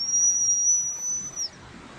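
A single high, piercing whistle blows steadily for about a second and a half, then cuts off, over faint background noise.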